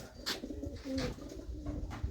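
A Malwai pigeon in England gives a few low, rolling coos, quiet and close, punctuated by short soft clicks and rustles.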